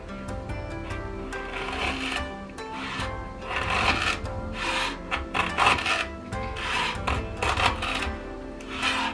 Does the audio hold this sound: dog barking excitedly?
no